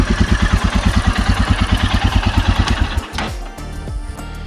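A motorcycle idles close by with a loud, rapid, even engine pulse, then cuts off abruptly, leaving a dull low rumble behind.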